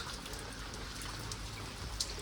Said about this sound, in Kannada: ಮಳೆ ನೋಡ್ರಿ ಇಲ್ಲಿ ಸಿಕ್ಕಾಪಟ್ಟಿ ಬರಾಕತ್ತೈತಿ ಅಂದರೆ ಬೆಳಗ್ಲಿಂತ್ರ ಚಾಲೂನ ಐತಿ